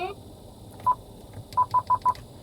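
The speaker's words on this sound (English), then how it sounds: "I just heard my phone beep to let me know it was about to link." A phone gives a short tone and then a quick run of four electronic beeps as it links to an Eonon UX6S2 Android car stereo in a vehicle, close and clear with faint background hum.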